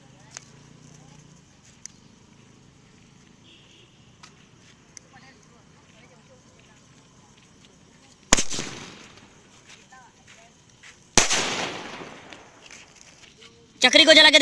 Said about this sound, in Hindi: सबसे पहले पेंटा स्काई शॉट को जला के देखते हैं कैसा जलता है